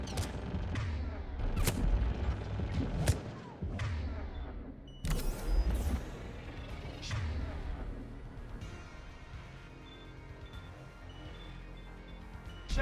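A gunship opens fire in Mass Effect 3, sharp gunshot bursts and heavy booms arriving in irregular clusters, loud at first and then thinning into a quieter rumble.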